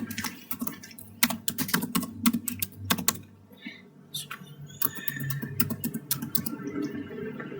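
An email address being typed on a computer keyboard, a fast close run of clicky keystrokes that pauses briefly and then continues in lighter taps, with faint background noise and no voice.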